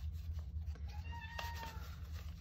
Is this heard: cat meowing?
yes